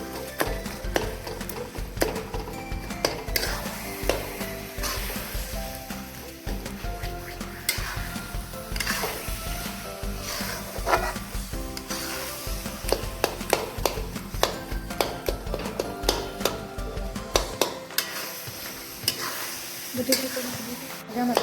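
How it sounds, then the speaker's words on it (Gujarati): Dates roasting in ghee and milk in a pan, stirred steadily: a continuous close sizzle with frequent scraping and tapping strokes of the spoon against the pan, no talk over it. "આપણે ખજૂરને ઘીમાં અને દૂધમાં શેકવાનો છે"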